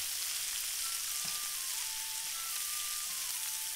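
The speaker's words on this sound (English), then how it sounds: "Now I'm gonna use my spatulas to toss these in the pan to stir fry them." Cabbage and onions stir-fry in a hot pan for yakisoba while spatulas toss them, producing a steady, soft sizzle with a faint tonal hum underneath.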